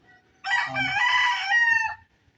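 A rooster on a chicken farm lets out a single loud, close crow lasting about a second and a half, standing alone against a quiet background.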